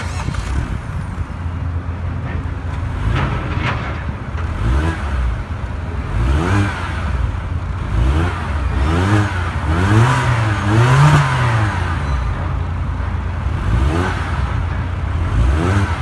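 A MINI Cooper S Countryman engine cranks, catches and settles into a steady idle, then revs up and down in a few rising and falling sweeps, heard close and loud with no talking.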